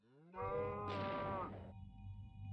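A cow in the Minecraft Create: Aeronautics game gives one long, loud, drawn-out moo that falls off abruptly, leaving a low hum behind.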